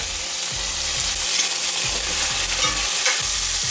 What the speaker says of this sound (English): Keep stirring and keep cooking.